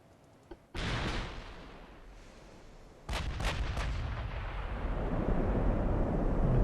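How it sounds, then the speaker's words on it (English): Heavy battleship guns boom in a naval battle in Ultimate Admiral: Dreadnoughts, with a sharp blast near the start and a second loud salvo partway through, each followed by long rumbling that swells toward the end. "the rearward battleship's firing as well"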